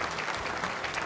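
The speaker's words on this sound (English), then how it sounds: "So I'd like to give them a round of applause for," Brief burst of audience applause at an economic outlook breakfast, many hands clapping steadily at moderate volume in a room.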